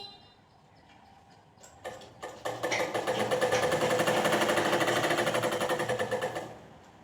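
A sewing machine stitches a baby frock, starting with a few scattered clicks and then running into a steady, loud, fast mechanical whirr that holds for several seconds before stopping.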